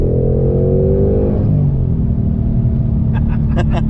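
A 2021 Ford Mustang Mach 1 fitted with an ESS G3 centrifugal supercharger kit runs on a dyno, its engine a loud steady rumble with rising harmonics, joined near the end by a rhythmic whine.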